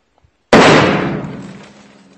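A riot-control grenade bursts after its pin is pulled: a few faint clicks, then one sudden, very loud close blast whose roaring rumble slowly decays over more than a second.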